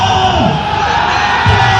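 A protest crowd in Sumerta, Bali, shouts against land reclamation, with loud massed voices and yells filling the clip continuously and a couple of sharper shouts rising out of the din.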